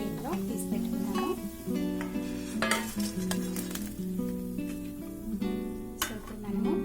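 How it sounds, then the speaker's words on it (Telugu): Fish frying in a pan with a steady sizzle, broken by metallic clinks and scrapes of a utensil stirring against the pan, while a voice talks over it throughout. "ఈ విధంగా మనము ఫిష్ ఫ్రై చేసేసుకోవాలి"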